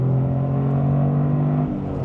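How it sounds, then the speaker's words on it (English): A manual 2025 Toyota GR Corolla engine holds a steady, close drone during a rev-matched downshift, its pitch easing down near the end of a short, loud stretch. "that rev match sounded amazing"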